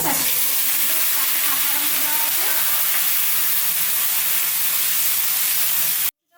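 Taro (kochu) is fried in hot oil tempered with dry red chillies, bay leaf and panch phoron, giving a close, continuous sizzling hiss that stops abruptly at the end.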